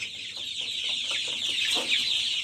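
Many young chicks cluck and chirp together in a busy, continuous chorus, with overlapping peeps and calls close by and no talking.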